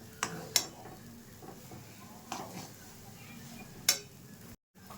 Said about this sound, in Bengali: নাড়তে নাড়তে সুজিটা কিন্তু শুকনো হয়ে আসছে